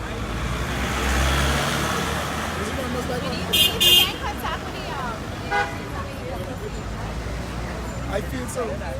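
Car horns honk repeatedly at a street protest outside a prime minister's office, short toots rising over steady roadway traffic noise while people talk nearby.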